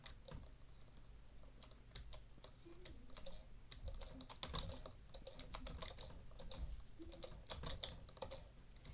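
Frantic clicking on computer mouse buttons during a Minecraft game on the Hive server, a rapid, irregular stream of light, sharp clicks, faint and close, continuing steadily with no voices.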